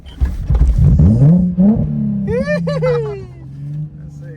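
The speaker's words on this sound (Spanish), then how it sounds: "Hoy lo vamos a arrancar empujado" A Nissan 350Z manual car being push-started cranks and catches, rising into a rough revving roar under excited voices, the motor settling into a steady idle hum.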